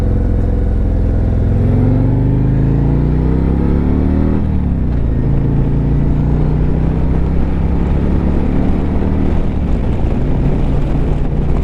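A Harley-Davidson Road Glide bagger motorcycle engine drones loudly while riding, its pitch climbing through a rev before dropping and settling into a steady throbbing rumble, with wind noise and no speech.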